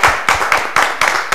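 Applause for nine students from Tandil competing in a provincial mathematics olympiad, a loud, close burst of hand clapping with a few uneven surges, no talk over it.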